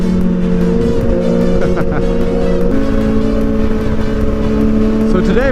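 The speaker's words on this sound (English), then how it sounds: "same RPM right now, and it's making a horrible droning sound" Motorcycle engine droning at steady constant RPM while riding in traffic, a loud, continuous tonal hum close by with a slight pitch step midway, wind rush underneath and a rider talking over it.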